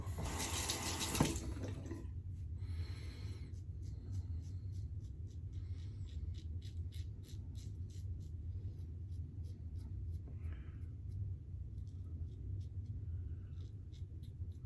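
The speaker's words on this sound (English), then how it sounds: "I rinse that real quick" A vintage 1930s Gillette razor is rinsed under a running tap. Water flows steadily with a low rumble and a brief louder gush at the start, then quieter splashing, clinking and dripping continue throughout. Nobody speaks.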